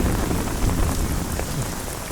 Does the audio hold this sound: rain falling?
yes